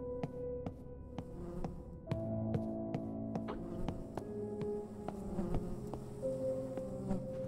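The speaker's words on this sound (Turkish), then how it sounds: "Sinekler basmış." Flies swarm in the video game Close To The Sun, a steady droning buzz that rises and falls under faint clicks and low tonal background sounds, continuous and fairly quiet throughout.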